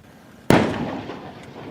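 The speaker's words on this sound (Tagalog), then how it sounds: "Umalingaw-ngaw ang magkakasunod na pagsabog sa La Paz Sand Dunes sa Lawag, Ilocos Norte nitong Lunes" A single sharp, heavy blast booms out from a live-fire military exercise at the La Paz Sand Dunes, Ilocos Norte, its low rumble echoing and fading slowly over the following second.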